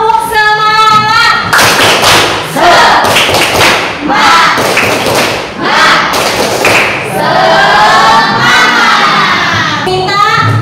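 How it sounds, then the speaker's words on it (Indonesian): A classroom group performs a rhythmic spirit clap with shouting, loud close claps and thumps in quick patterned bursts mixed with children's voices calling out together. "Tepuk semangat."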